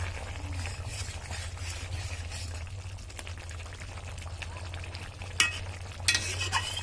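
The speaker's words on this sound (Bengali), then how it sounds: "এখন আমরা ভালো করে নেড়ে ছেড়ে দিচ্ছি।" Shukto curry of green banana, papaya and fish is stirred in a pan, with a steady scraping and sizzling that carries throughout. A couple of sharper knocks of the spoon against the pan come near the end, and no one speaks.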